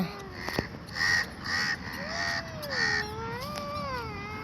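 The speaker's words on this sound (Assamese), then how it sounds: "পুৰা কাউৰী খেদাই আছে" Crows cawing while being chased away outdoors, several harsh repeated caws in a quick rhythm, fairly close, mixed with a wavering whistle-like tone and light background noise.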